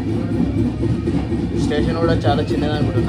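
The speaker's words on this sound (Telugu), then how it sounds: "పెందుర్తి స్టేషన్ నుంచి బయలుదేరింది మన ట్రైన్" Train pulling out of Pendurthi station on the Visakhapatnam to Araku line, a steady carriage rumble with light rattling beneath someone talking.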